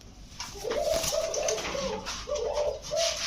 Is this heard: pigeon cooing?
yes